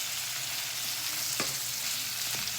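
Caramelised pumpkin pieces with cinnamon and star anise cooking in a pan, a dense steady sizzle close by, broken by a couple of brief utensil scrapes as the pieces are moved.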